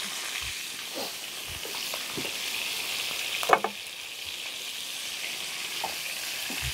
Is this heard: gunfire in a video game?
no